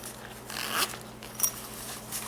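The zipper on the pouch of a Unit Portables OP-1 carrying case is pulled in a couple of short, close raspy strokes, clear over a faint steady hum.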